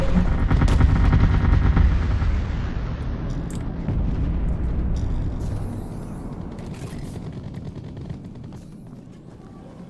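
Missiles firing and exploding in a strategy video game, a heavy rumbling barrage of booms and blasts that gradually fades over ten seconds, with no talking.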